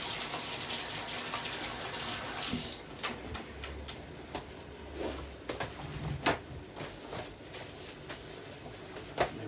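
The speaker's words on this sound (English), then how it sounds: "Quickly wash our hands." Hands are rinsed under a running kitchen tap, a steady rush of water for about two seconds before it cuts off, followed by scattered splashes, drips and small knocks at a moderate distance.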